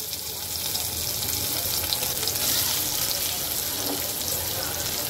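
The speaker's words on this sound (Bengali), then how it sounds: "বড়া ভাজা তেলের মধ্যে ভেজে নেব আলুগুলো" Potatoes frying in oil left over from frying pea-lentil fritters, a dense, even hiss of sizzling oil that holds steady throughout, close and fairly loud, with no voices.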